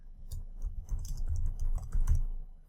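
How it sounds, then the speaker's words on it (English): Close-miked typing on a computer keyboard, a quick uneven stream of soft key clicks and taps, fairly quiet with nothing else heard. "I can simply click, double click in here, and then just start typing."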